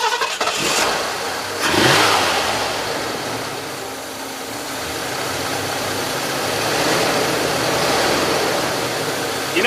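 Engine of a classic American luxury car under restoration starting up and running, a loud close rumble with a couple of revving swells over a steady idle, no talk.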